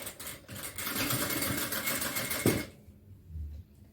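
A sewing machine runs steadily while stitching a folded fabric seam for tailoring, a continuous loud whirr for about two and a half seconds that then stops abruptly, leaving quiet room noise.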